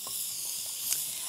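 Onions frying and sizzling in a pan for a meat and rice tagine stew, a steady close hiss with faint crackles and no talk.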